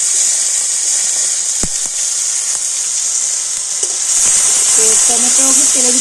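Finely chopped tomato hits hot oil with cumin seeds, a loud close sizzle that swells as it lands and keeps hissing, with a brief clink and a few faint voice-like tones near the end.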